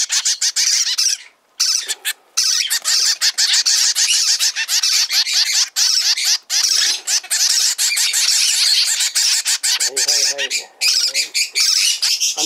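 Zebra finches calling continuously at close range, with dense, rapid squawks and chirps forming a busy chorus that pauses only briefly.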